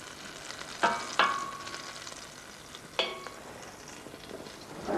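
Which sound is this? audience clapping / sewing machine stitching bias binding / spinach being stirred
spinach being stirred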